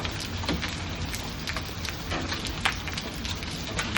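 Golf-ball-sized hail pounds down during a June storm in Arlington, Texas, a loud, dense roar of impacts with sharper individual cracks and knocks scattered throughout, close by and without speech.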